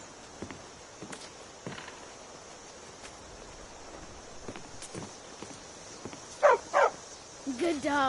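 A dog barks twice in quick succession in Skyrim Special Edition, then again, moderately close, after scattered footsteps and soft clip-clop sounds, with a voice speaking in places.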